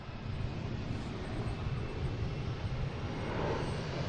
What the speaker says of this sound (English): We have Alaskan Airlines here, heading to Seattle. Flight 304.